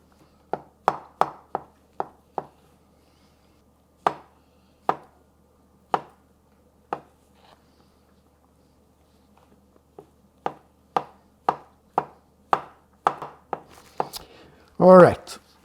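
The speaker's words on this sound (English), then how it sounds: "You just cut them the same way that you cut that pickled cucumber." A knife chops pickled vegetables on a cutting board in crisp, evenly spaced strokes, first a quick run, then slower single cuts with pauses, then another fast burst, all close and alone without talk.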